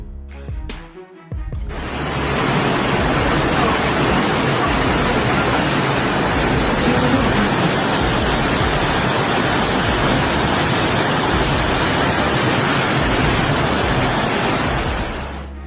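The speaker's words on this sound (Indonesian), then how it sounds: "Banjir bandang di Slovakia." Floodwater from a flash flood in Slovakia roars in a loud, steady, broadband rush that holds unbroken for most of the clip after a brief quieter opening.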